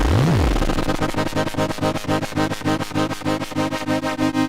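A buzzing synthesizer tone with pulse width run through the ring modulator, giving a fast, choppy pulsing rhythm and metallic, clangorous overtones, opening with a quick pitch swoop in the low end.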